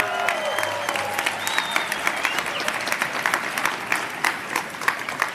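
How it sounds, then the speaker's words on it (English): A crowd applauding steadily at a ceremony honoring NYC public school valedictorians, many hands clapping together at a moderate distance, with a few cheers rising through the clapping. "Let's give everyone here a round of applause for that."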